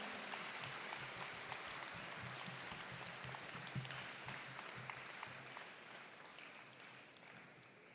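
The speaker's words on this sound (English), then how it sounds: "Please welcome the esteemed team of doctors with a huge round of applause" An audience at a live morning gathering applauds to welcome a team of doctors, a steady, distant, faint wash of clapping that fades slightly toward the end.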